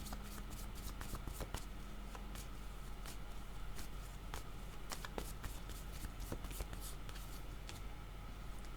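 Playing cards are shuffled for a card reading, giving soft, close riffling and flicking sounds in scattered bursts at low volume.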